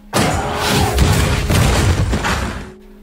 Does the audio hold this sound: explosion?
yes